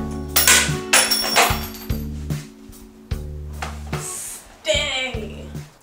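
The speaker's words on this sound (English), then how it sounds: "I know it doesn't make sense because I'm hammering and pulling" Sharp, irregular knocks from hammering and pulling during a kitchen makeover ring out about half a dozen times, close and loud, over steady background music.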